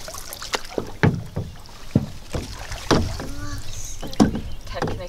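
Oars dip and pull through the water as a small boat is rowed, giving a series of splashy, knocking strokes at an irregular rhythm, close to the microphone with some wind noise and faint voices.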